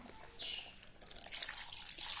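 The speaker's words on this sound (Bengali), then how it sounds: "এই যে আমি এখানে একটু পানি দিলাম" Water poured into a pan of stinging catfish (shing fish) curry, a short, faint splash that builds into a brighter, steady hiss of liquid hitting the hot pan.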